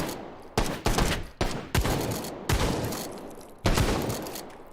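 Shotgun blasts in the VR shooter H3VR, six loud close reports spaced about half a second to a second apart, each followed by a long decaying rumble.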